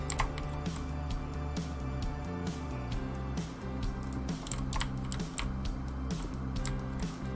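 Steady, rapid clicking from a mechanical computer keyboard being typed on, a continuous stream of sharp keystrokes with faint background hum and no talking.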